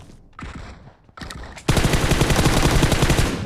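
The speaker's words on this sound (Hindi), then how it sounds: "पोचिंकी पे जंप करते ही इतनी सारी गोलियाँ चलने लग गई" M416 rifle gunfire in the mobile battle-royale game BGMI, beginning with a few scattered bursts and breaking into loud, rapid continuous automatic fire in the second half, with no voices.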